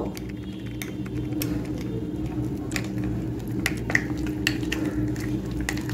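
Spoon stirring a wet spice mixture of chili powder, garam masala and a little water in a pan for rohu fish head curry: soft squishy scrapes and light metallic taps in an irregular rhythm, close by.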